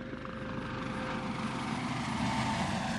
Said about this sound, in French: L'hélico.